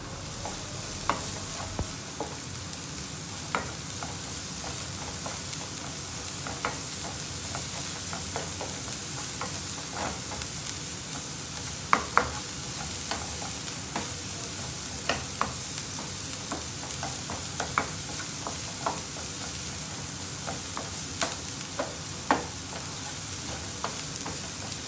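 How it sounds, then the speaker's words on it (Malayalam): Onion and green chilli sauté in a hot pan, a steady close sizzle broken by frequent sharp scrapes and clicks of a spatula stirring, with no voices. "അപ്പോൾ അതേ ഒനിയനും ഗ്രീൻ ചില്ലി ഇടുകയാണ്. ഇതിട്ട് കഴിഞ്ഞാൽ ഇതും ഒരു നേരിയ ഗോൾഡൻ ബ്രൗൺ നിറമാവുന്നവരെ"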